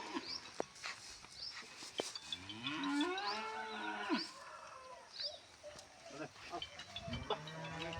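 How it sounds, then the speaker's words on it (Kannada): Punjab breed cows and calves moo repeatedly in a shed, several overlapping calls from near and farther animals, with brief voices talking amid the lowing. "ಹಸುಗಳು ಕರುಗಳು ಎಲ್ಲ ಇದ್ದಾವೆ"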